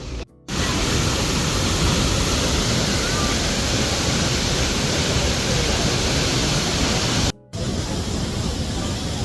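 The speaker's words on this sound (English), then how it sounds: "Final stop, waterfall. Here it is." A waterfall in Bali roars as a dense, continuous rush of falling water, loud and close, steady throughout apart from two brief dropouts.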